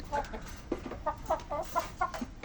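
A female Pradu Hang Dam chicken clucks in a short series of soft, evenly spaced clucks heard up close and alone.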